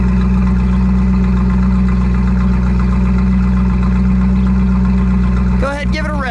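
A factory 1968 Ford Mustang with a 428 Cobra Jet V8 idles steadily and loudly close by, a deep, even rumble that holds throughout before a brief rising shift in the final second.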